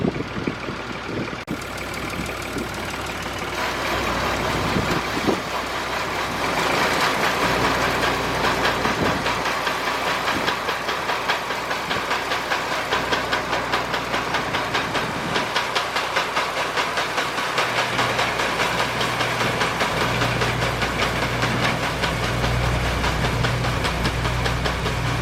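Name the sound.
farm vehicle engine running with PTO shaft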